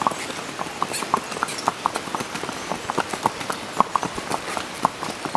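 Horse hooves clip-clop in a steady, fairly close rhythm on a ride through mountain coffee fields in Panama, many sharp regular knocks with light background noise and no clear speech.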